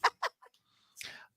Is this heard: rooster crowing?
yes